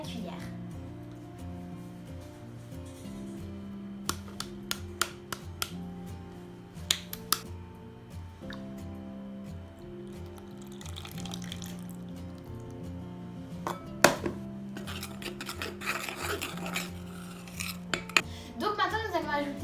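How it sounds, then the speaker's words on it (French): A spoon whisks cornstarch and lemon juice in a bowl for a matcha roll's lemon cream, making light, irregular metallic clinks and scrapes against the dish over soft background music. "nous allons ajouter la maïzena et le jus de citron en fouettant bien à la cuillère"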